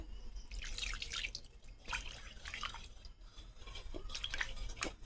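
A small splash of water is poured into a cooking pot coated with leftover spices while making crab bharta, giving soft, irregular trickles and drips close by with no talking.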